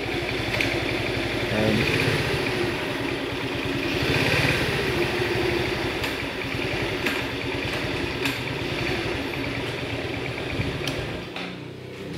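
A Yamaha Vega motorcycle engine runs steadily in fourth gear, a continuous close mid-pitched hum with light mechanical clatter throughout, while a voice speaks briefly near the start.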